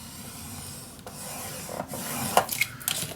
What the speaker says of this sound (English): Let's make another fold line on that mark.